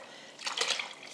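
Homemade elderflower cordial poured through a muslin-lined colander: a short splashing gush of liquid that swells in the middle and then eases to a soft trickle.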